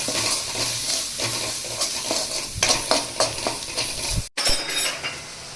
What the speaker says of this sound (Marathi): आता आपण हे सगळे मसाले घेतलेले ते टाकून देऊ आता मस्त हलवून घेते